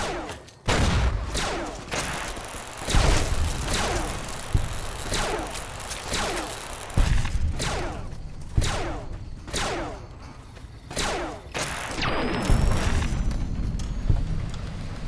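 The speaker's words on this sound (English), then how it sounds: "Oh boy, they have grenade launchers." Grenade launcher rounds explode in Fallout New Vegas as a series of heavy booms, roughly a dozen blasts at irregular intervals, each with a sharp hit and a rumbling tail, some overlapping in quick succession.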